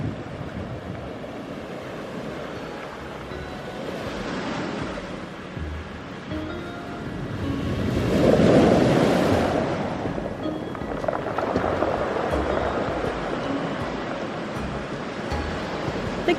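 Ocean surf rolling onto a beach where people surf, a steady wash of breaking waves with one louder crash midway and wind buffeting the microphone throughout.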